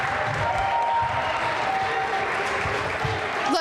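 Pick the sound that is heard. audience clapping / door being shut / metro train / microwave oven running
audience clapping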